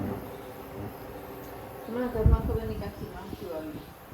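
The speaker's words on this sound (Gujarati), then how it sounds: "જો માખીઓ આવ્યો" Flies buzzing around a home kitchen while snacks are being prepared: a thin, wavering drone that rises toward the middle of the clip, under faint voices and household noise.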